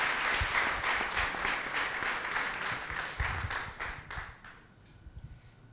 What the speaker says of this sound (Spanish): Quiero agradecerles primero el aplauso